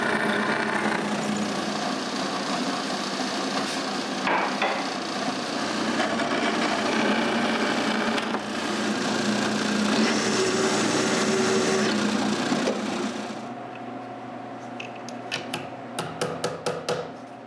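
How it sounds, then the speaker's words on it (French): A power drill bores screw holes in wood for bath boards, a sustained whirring and grinding with a few surges and pauses, ending in a run of sharp clicks and taps close by. "Je commence donc par marquer l'endroit où je les veux et je perce les trous."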